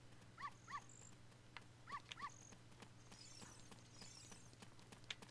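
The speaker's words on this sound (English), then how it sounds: "Oh crap, I've got dogs following me." Dogs trail the player in The Legend of Zelda: Ocarina of Time, giving short paired yips and barks in two quick bursts over a low steady hum, followed by faint scattered game sounds.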